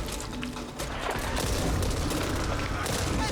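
Gunfire in the zombie shooter Back 4 Blood, a dense, continuous fusillade of shots and impacts that fills the whole stretch at steady loudness, with a voice talking underneath.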